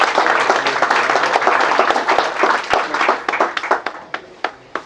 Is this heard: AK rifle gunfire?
no